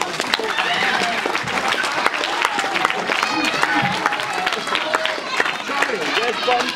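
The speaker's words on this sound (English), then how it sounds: "Can you please give them a big round of applause?" Audience applause for volunteers at a comedy hypnotist show during an under-18s football club award evening, dense steady clapping with cheering and crowd chatter mixed in throughout.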